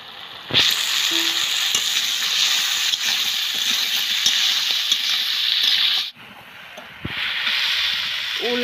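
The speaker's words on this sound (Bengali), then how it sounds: "উল আর মশলাটা খুব সুন্দরভাবে আমি কষে নিব।" Elephant foot yam and spice paste sizzle steadily in hot oil in a pan, with light stirring scrapes throughout; the frying briefly cuts out near the end before resuming.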